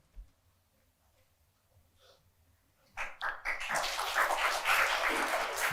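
An audience at a talk bursts into applause after a near-silent pause: brief scattered claps swell quickly into steady, fairly loud clapping from a crowd in a hall.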